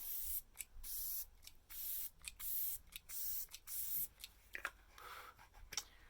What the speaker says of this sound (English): It does have a really ultra fine mist though.